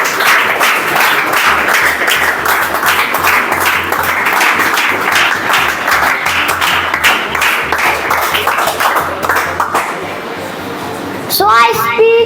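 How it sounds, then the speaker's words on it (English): An audience at a children's motivational speech event applauds to welcome a speaker onto the stage, a sustained wash of dense clapping that fades near the end as voices come in. "with a huge round of applause"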